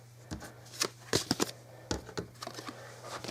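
Threat cards from the Shadows of Brimstone board game being shuffled and handled on a table, a close series of quick papery riffles and flicks at an even tempo with no talk.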